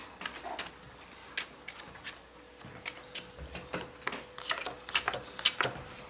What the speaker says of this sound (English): You want to see if we can get it again, shuffling up the cards?